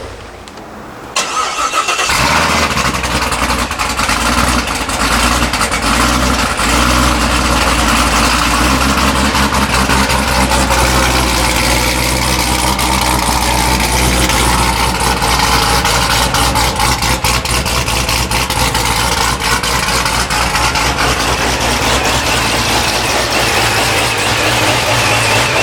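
A Camaro ZL1 with a ported supercharger fires up and settles into a loud, steady, rumbling idle nearby, holding a dense engine roar throughout with no talking.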